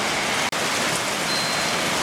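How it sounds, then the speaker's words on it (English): Rain falls steadily on an outdoor weather deck as a dense, even hiss of drops, close and constant, broken by one brief instant of silence near the start. "We got angry skies and rain coming in up here."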